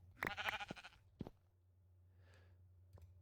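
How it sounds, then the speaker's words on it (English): Sheep in the Minecraft video game give a short, bright, wavering bleat near the start, followed by a couple of soft clicks and a quiet hum. "We'll also take the sheep"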